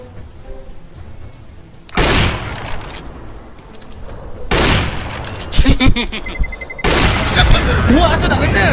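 Gunfire in Counter-Strike: Global Offensive on the Dust II map comes as several sharp, loud bursts and single shots spread across the stretch, with people talking throughout.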